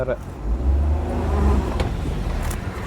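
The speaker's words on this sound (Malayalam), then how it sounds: "ഇതാ വണ്ടിയാണ് ഈ കയറുന്നത് കേട്ടോ" A vehicle drives up a slope on a hillside, its engine a low, steady rumbling drone close by, straining and holding pitch, while someone talks over it.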